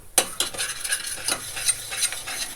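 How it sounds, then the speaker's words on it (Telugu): Sprouts curry frying and being stirred in a pan, with a soft continuous sizzle broken by several sharp scraping clinks of a spoon against the pan, close and fairly quiet. "ఈ విధంగా కొద్దిసేపు బాగా వేగనిద్దాం."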